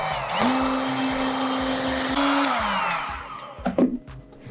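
A heat gun runs as a steady loud whine with a constant hum, warming leftover glue on an Arai Contour-X helmet spoiler, then winds down and gives way to a few handling clatters near the end.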